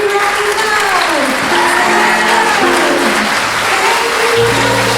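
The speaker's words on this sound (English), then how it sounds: "please stand up so we can give you a big round of applause" Audience at a children's musical theatre show gives a sustained round of applause for the helpers, a dense steady wash of clapping with some voices and tonal sounds mixed in.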